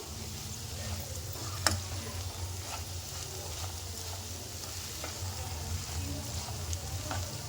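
Ginger garlic paste fries in a pan for sprouts curry, a low steady sizzle broken by a sharp clink and several soft scraping stirs against the metal.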